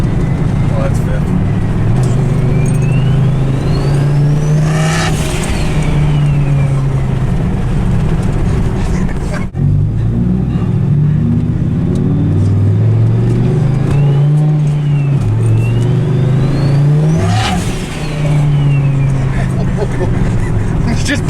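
Turbocharged Dodge Ram SRT-10 pickup with a Viper engine and hood dump exhaust, heard from inside as it runs loud and accelerates hard, the engine note rising and falling through gear changes, with voices talking over it.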